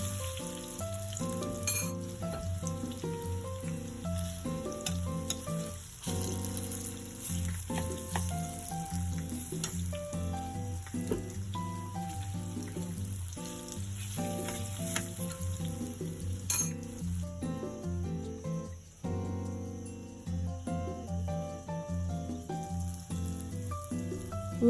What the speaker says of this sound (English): Preheat your oil and start frying your plantain